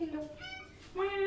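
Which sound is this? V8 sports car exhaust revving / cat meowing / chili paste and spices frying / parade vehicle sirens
cat meowing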